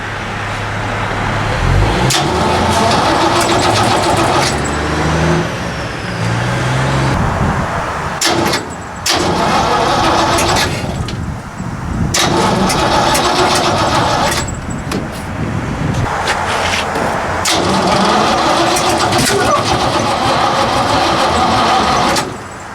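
An AMC V8 engine powering a hot rod wood chipper runs loud and close, revving up and down repeatedly with rough mechanical clatter throughout.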